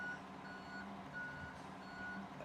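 Reversing beeps from a truck in a European trucking video game, a steady repeating beep pattern over a low engine drone, moderately loud and with no talk.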